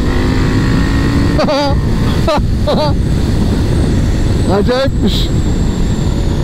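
KTM 890 SMT motorcycle engine droning steadily and loud while riding on a semi-open road, with brief revving swells under a voice talking intermittently throughout.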